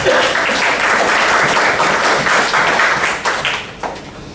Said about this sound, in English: So I think a huge round of applause for yourself.